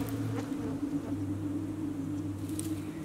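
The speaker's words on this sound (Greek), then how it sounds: "Μίας πολύ επιθετικής μέλισσας, η οποία επιμένει γύρω μου." An aggressive bee buzzes persistently close around a person outdoors, a steady low drone that holds throughout with faint rustling and light taps over it.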